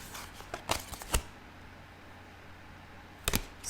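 A deck of tarot cards is shuffled by hand in close, quiet surroundings, giving brief papery riffles and flicks in two short clusters with a pause of near silence between them.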